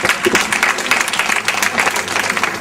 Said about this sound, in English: So I just wanted to give them another round of applause for that.